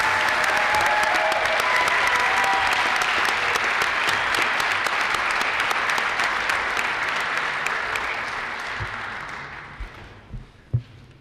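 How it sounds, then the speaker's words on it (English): Sustained applause from an audience at a 2016 city inauguration ceremony in Peabody, honoring student performers; loud and dense clapping that holds steady, then thins out and fades into a few scattered claps at the end. "Can we just have one more round of applause for our students?"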